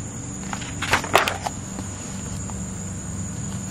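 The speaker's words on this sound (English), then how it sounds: "Sorry, there's lots of bugs out here. I'm on my front porch." Insects chirp outdoors on a front porch, a thin continuous high trill held steady throughout, with a few brief rustling handling sounds near the start.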